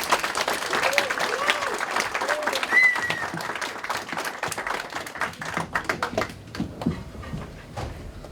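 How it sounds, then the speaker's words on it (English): An audience at a poetry anthology launch applauds, dense clapping close by that gradually thins into scattered claps, with some voices and a whistle mixed in. "Give him a round of applause."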